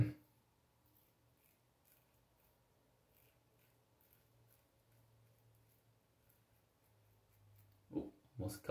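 A Spearhead Experimental razor makes a final cleanup pass on the chin, giving faint, close, short scraping strokes in a quiet room, followed by a louder brief rustle at the end.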